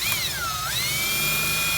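A power drill with a dull bit whines at high pitch, its tone dipping briefly as it bogs down, then steadying as it bores through a metal car door.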